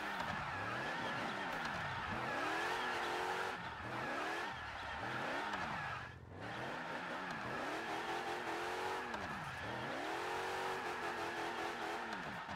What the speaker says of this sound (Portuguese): Acelerou, virou aqui pra esquerda, não bateu no poste, fez um 360 sem querer